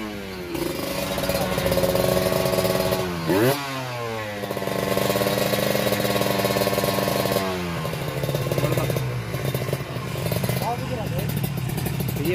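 A Kawasaki Ninja RR two-stroke motorcycle engine being tuned, loud and close, revving up and down in repeated swells with sharp throttle blips and an idling dip; someone talks over it.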